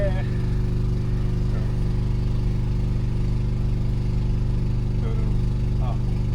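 A couple of Nuffield tractors at a rural show, their engines idling in a continuous steady low rumble close by, with faint voices in the background.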